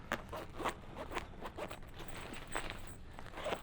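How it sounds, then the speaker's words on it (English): Repeated rasping strokes of a zipper closing a compartment on a travel guitar case, heard up close in rhythmic pulls with small handling noises between them. "Let me zip this one back up."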